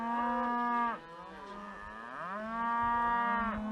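Cattle being moved with horses give two long, loud moos close by, the first cut off sharply, then a lower groan that rises into a second drawn-out call.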